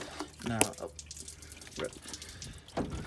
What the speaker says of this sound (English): there's gonna be a lot of water draining out of the car, as you can hear from there.